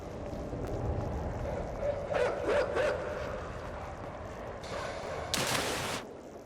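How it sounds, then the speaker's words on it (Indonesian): Dog barking in the horror adventure game Inside, a few sharp yips and barks over a low ambient drone, with a louder burst near the end. "Wah, ada anjing lagi."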